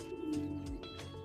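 Pigeons kept in an upper-floor loft coo softly and low, in a faint, gentle murmur with a few light chirps mixed in.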